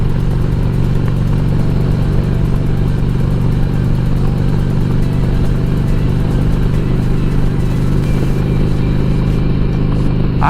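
Motorcycle engine droning loud and steady on a ride, with a continuous low rumble and road and wind noise filling the whole stretch, no voices over it.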